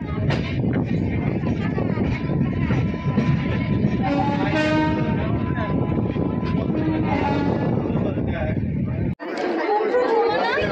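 The Shalimar–Puri Dhauli Express stands at Santragachi station amid loud, continuous platform chatter and crowd noise, with faint mechanical and horn-like tones underneath before an abrupt cut to quieter ambience.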